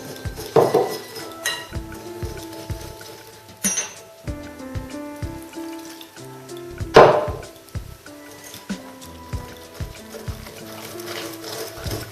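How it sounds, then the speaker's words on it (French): Pakora batter being mixed with water in a bowl, heard as scattered clinks and scrapes of a utensil against the dish, soft and close with quiet gaps between strokes. "Ensuite, je vais préparer une pâte. J'ajoute un peu d'eau."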